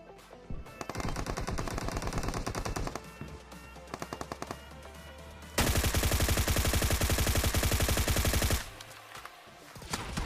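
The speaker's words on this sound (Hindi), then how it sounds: "क्योंकि भाई बहुत देर से फायरिंग चल रही है वहां पे" Automatic gunfire in PUBG Mobile on the Erangel map rattles in rapid bursts, loud and close, with a sustained heavy stretch of continuous fire midway and short pauses between volleys.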